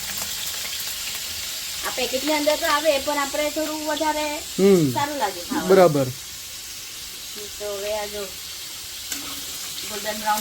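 Asafoetida and spices frying in hot oil for paneer chilli, a soft steady sizzle beneath someone talking close by in several bursts.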